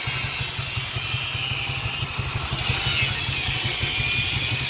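A freshly tuned-up motorcycle engine runs steadily at a fast, even idle, close and loud throughout with a constant pulsing rumble.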